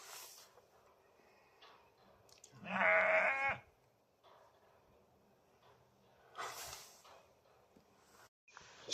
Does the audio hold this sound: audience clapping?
no